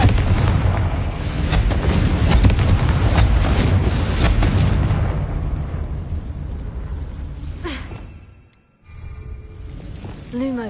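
Confringo blasting spell explosions in Hogwarts Legacy, a run of heavy rumbling booms and crackling bursts, loud and close, that fades into a quieter tail with a short gap.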